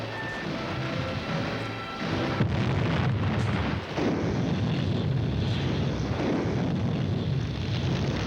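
Battle scene from a war film with a warplane being shot down: a dense, continuous roar of aircraft and artillery with heavy explosion bursts, one sharp crash near the middle, loud and sustained throughout with no talk.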